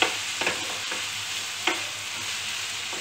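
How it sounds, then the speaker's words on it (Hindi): Amaranth leaves (maat ki bhaji) frying in a pan are stirred with a few quick scraping strokes over a steady, soft sizzle, close and fairly quiet with no talking. "और इसको थोड़ा थोड़ा ऐसा हिलाते जाना"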